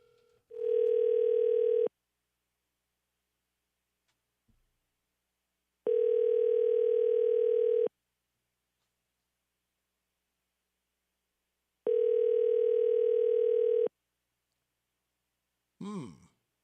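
A telephone ringback tone sounds three times, each a steady two-second burst separated by long silences, before a call is forwarded to voicemail; a brief breathy voice follows at the end.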